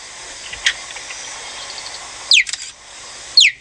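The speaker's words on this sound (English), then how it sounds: "And now we have the fastest land mammal on Earth, the cheetah, which I would take seriously if they didn't sound like this." A cheetah gives two short, high, bird-like chirps, each a quick downward sweep, near and fairly loud over a soft hiss of insects or wind, with a faint thump early on.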